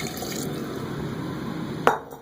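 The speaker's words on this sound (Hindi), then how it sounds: "चावल डाल के अब इसमें पानी डालेंगे" Water pours into a pot of rice for zeera aloo chawal, a continuous close liquid splashing that ends with a brief clink against the pot.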